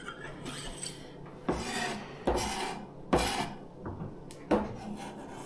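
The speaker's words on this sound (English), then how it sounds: "Scraping up all the garlic" A knife blade scrapes chopped garlic across a cutting board for garlic honey, five distinct rasping strokes at a steady pace, close and clear with no talking.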